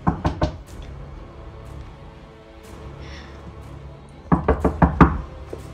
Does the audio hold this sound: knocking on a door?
yes